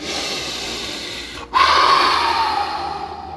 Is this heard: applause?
no